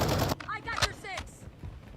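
Gunfire in the military shooter game Call of Duty Modern Warfare II, several sharp broadband bursts in quick succession after a loud opening blast, with a radio-style voice heard over part of it.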